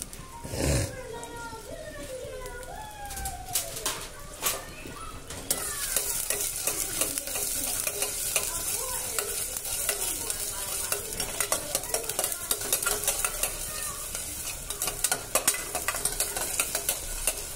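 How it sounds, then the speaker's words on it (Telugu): Onions fry in a pan for a tomato and dosakay curry. A spoon scrapes and clanks against the pan at first, then a dense, loud sizzle takes over and carries steadily to the end. "సో వీటిని ఇప్పుడు కాస్త ఫ్రై చేద్దాం, జస్ట్ 1 minute"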